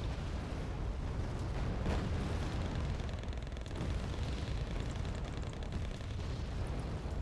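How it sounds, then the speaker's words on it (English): Artillery barrage explosions roll on in the video game Wargame Red Dragon, a continuous dense rumble of overlapping blasts with a few sharper booms standing out, steady and loud for several seconds. "Dear God, look at this barrage here. It hit everything."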